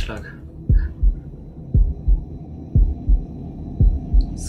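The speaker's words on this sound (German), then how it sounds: "Herzschlag." A slow, steady heartbeat from the video game Shadow of the Tomb Raider thumps loudly in repeated double beats over a low hum, with no talking.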